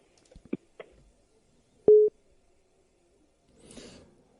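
A telephone busy signal on a phone line: one loud, steady tone lasting about a fifth of a second. Faint clicks come before it and a short burst of line noise follows.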